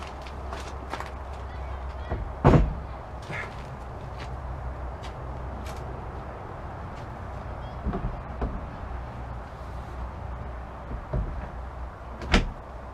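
Handling and fitting of a door on a DIY teardrop trailer: scattered knocks, thumps and sharp clacks at irregular intervals over low background noise, with one loud bang early on and another near the end.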